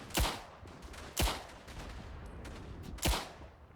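Three sharp, loud gunshots from the World War I video game Verdun, with German machine gunners in play, cracking out at uneven intervals over a low background rumble, with no talking.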